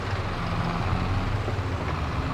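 A tractor engine in Farming Simulator 22 drones steadily at low pitch, a constant even rumble with no breaks and no talking.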